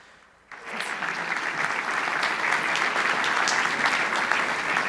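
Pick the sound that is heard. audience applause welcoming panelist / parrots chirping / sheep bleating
audience applause welcoming panelist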